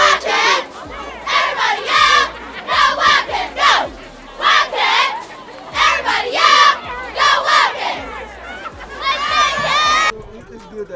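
A crowd cheers and shouts at a high school football game, loud bursts of cheering rising and falling in waves, with a few louder yells near the end.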